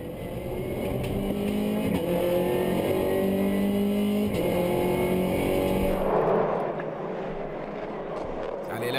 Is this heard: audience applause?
no